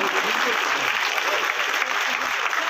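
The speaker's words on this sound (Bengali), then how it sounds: "দয়া করে করতালি দেবেন" A crowd at a neighbourhood fair in Dum Dum claps to honour a guest, producing sustained, even applause from many hands while a voice carries faintly beneath it.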